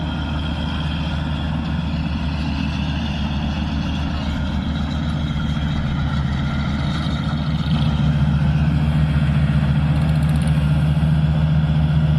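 A harvesting machine's engine runs steadily as it drives up a ramp onto a tractor-drawn trolley in a wet rice field, a loud, continuous low rumble that thickens slightly toward the end.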